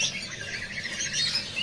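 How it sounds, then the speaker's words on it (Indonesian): Jongkangan songbirds call in a bird shop kiosk, with bright, continuous squawks and chirps layered over busy market background noise. "Di kios ini ready stock ya burung jongkangan."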